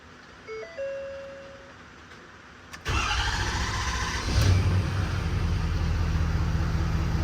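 Ford 6.7 Powerstroke diesel after a fuel-system and injector job: a soft chime, then the starter cranks and the engine catches, settling into a loud, steady idle with a brief revving swell.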